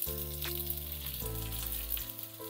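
Sliced onion frying with coconut in a pan for Khandeshi shev bhaji, a steady close sizzle that runs throughout with no talk over it.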